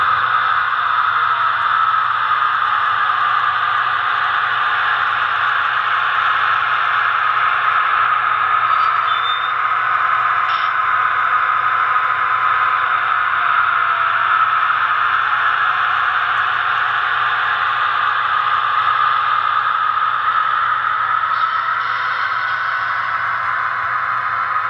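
An HO scale Santa Fe F7 model locomotive gives off a steady, continuous hiss-like diesel rumble with a constant hum, unchanging and close, with a couple of faint brief clicks partway through.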